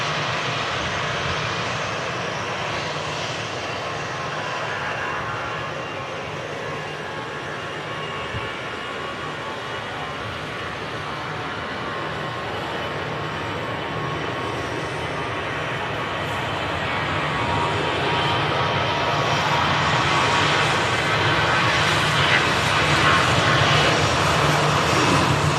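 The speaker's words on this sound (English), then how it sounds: "And another EasyJet taxiing past again out to Paris." An EasyJet passenger jet taxis at an airport, its engines giving a steady, loud roar that swells toward the end as it passes close by, with no voices heard.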